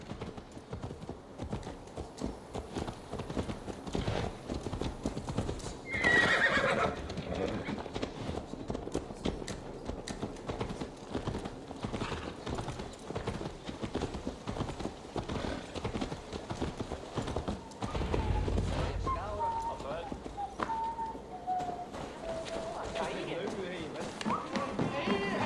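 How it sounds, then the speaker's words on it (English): Horse hooves clip-clop steadily through a Viking-era scene in Assassin's Creed Valhalla, with a brief whinny partway through, all heard under ongoing speech and game ambience. "Let's return the horse."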